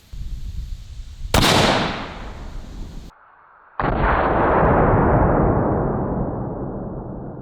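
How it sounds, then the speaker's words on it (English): A .308 rifle fired into a stack of bulletproof blankets: a sharp, loud outdoor gunshot with a long echoing decay, followed after a short gap by a second heavy blast that rolls off slowly. "Next up, we're gonna try the 308."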